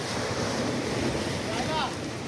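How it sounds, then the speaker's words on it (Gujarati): Sea waves at Diu fort wash in with a continuous broad roar, and wind buffets the microphone throughout this short outdoor stretch. "ને આ દરિયો જો"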